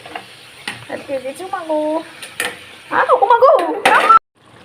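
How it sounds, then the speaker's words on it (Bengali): Fish dropped into hot fish oil with browning potato pieces, frying with crackling sizzle and stirring scrapes in a pan, growing louder and busier toward the end, with a voice talking at the start. "এই পর্যায়ে আমি এখন মাছগুলো দিয়ে দিব।"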